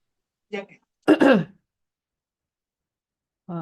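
A few short throaty coughs or throat-clearing sounds, separated by silence, with a brief voiced sound at the end.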